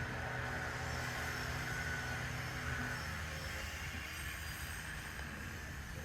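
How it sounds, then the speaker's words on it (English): A Brightline high-speed test train rumbles steadily as it rolls into the Orlando airport station, with a faint wheel squeal partway through, over broad outdoor noise. "it departed the Orlando Vehicle Maintenance Facility and was entering the Orlando station at the airport"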